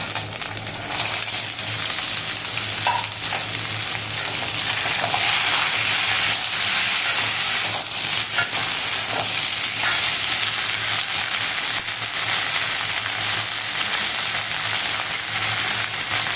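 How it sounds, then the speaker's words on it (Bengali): Bitter gourd slices fry in a pan of hot oil with green chilli, dried chilli, cumin and nigella, a dense, steady sizzle that runs loud and close for the whole stretch, with faint stirring scrapes and no voices. "এবার আমি করলাগুলো দিয়ে দিচ্ছি।"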